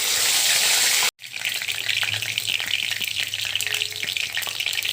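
Egg frying in oil with spring onion greens, a steady loud sizzle that starts abruptly after a brief silence and continues with small crackles and faint stirring clinks.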